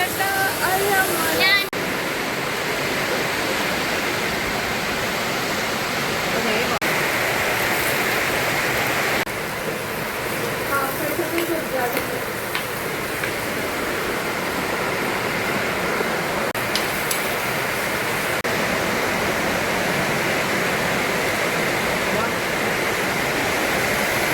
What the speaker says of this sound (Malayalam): അടട്ട മഴ